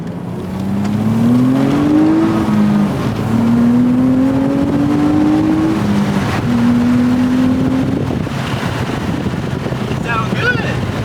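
A Nissan Altima fitted with a cold air intake accelerates through the gears, its engine note rising loudly, dropping at each shift and climbing again, with wind noise in the background.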